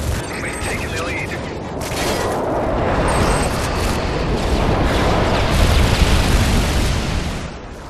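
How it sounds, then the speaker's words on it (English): Bomb run explosions in Modern Warfare 3 roll out as a continuous, loud rumbling barrage of blasts and crackling debris, swelling toward the end with game voices faintly over it. "Alternative HQ, bombs away"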